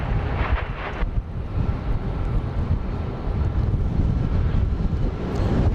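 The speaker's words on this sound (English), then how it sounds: "The wind is blowing the mist away." Wind buffets the microphone outdoors at Dallas Love Field airfield, a loud, continuous low rumble and roar with gusty swells and no voice.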